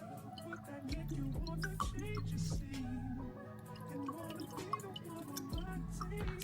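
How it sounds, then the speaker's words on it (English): Lemon juice for lemon drop cocktails is poured in brief trickling, dripping spurts, close by, with a voice speaking around it. "Next thing we gotta do is add some lemon juice."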